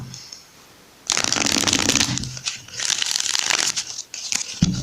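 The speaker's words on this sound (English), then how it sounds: "Okay, one more shuffle." Brisk riffling of a tarot card deck, two quick shuffles in a row after a brief quiet pause, close and crisp with a soft tap at the end.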